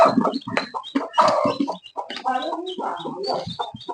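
Chickens cluck and call close by in a steady, busy run of overlapping fowl voices, no talk over them.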